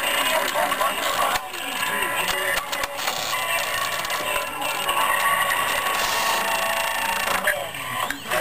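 Music from a car stereo plays through a small DC motor in a model car, coming out as a thin, buzzy, tinny rendition that runs continuously at a steady level with no talking.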